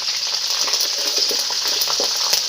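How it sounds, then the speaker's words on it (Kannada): Lentils and curry leaves fry in hot oil for a vegetable upma, a dense, steady sizzle with faint crackles running throughout, close and fairly loud with no talking. "ಆ ಬೇಳೆಗಳೆಲ್ಲ ಗೋಲ್ಡನ್ ಕಲರ್ ಆಗಬೇಕು ಅಲ್ಲಿವರೆಗೂ ಫ್ರೈ ಮಾಡ್ಕೊಳ್ಳಿ"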